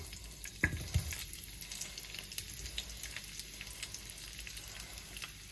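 Onions frying for a chicken curry crackle softly and steadily in a pan, with a couple of brief louder pops near the start and a faint hiss throughout; no one speaks.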